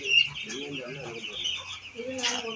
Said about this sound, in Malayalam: അടുത്തതായി നമ്മൾ നോക്കാൻ പോകുന്നത് 8 ദിവസം പ്രായമായ കുഞ്ഞുങ്ങളാണ്, കോഴി കുഞ്ഞുങ്ങളാണ്.